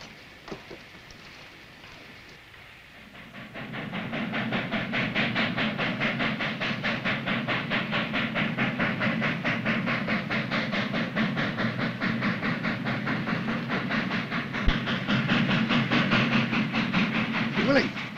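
A train runs steadily with a rumbling, rhythmic clatter of wheels and a hissing wash, building after a few quiet seconds and carrying on to the end.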